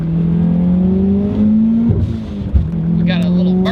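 A Mitsubishi Lancer Evo 3 engine drones loudly from inside the car as revs climb steadily, drop with a shift, then pull again, with a short sharp burst partway through.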